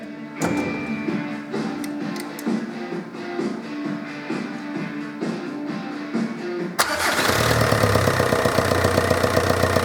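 A 1.9 TDI diesel car engine with a failed timing belt tensioner cranks, then catches and settles into a loud, steady rumbling idle with a rhythmic knock, after several seconds of clattery mechanical activity.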